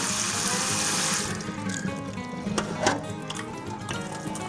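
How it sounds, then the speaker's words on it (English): Tap water runs steadily into a cooking pot of rinsed beans, a loud rushing stream that cuts off and gives way to softer splashing, sloshing and clinks of the pot. "I'm going to put it back and add the water for cooking"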